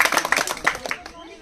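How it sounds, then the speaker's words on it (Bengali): A few hands clap for a village game prize winner, quick uneven bursts over about a second that fade out, with a voice speaking nearby. "সবাই হাততালি দাও"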